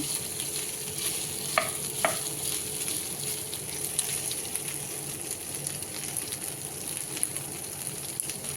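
Chicken browning in butter in a pan makes a steady, close sizzle with soft crackles and a couple of light utensil clinks near the start, continuing evenly without any talk.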